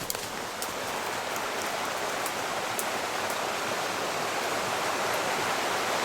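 A river rushes steadily over the washed-out grade of the old Port Arthur, Duluth and Western Railway near Hymers, Ontario, a dense, unbroken roar of flowing water close by with no voices.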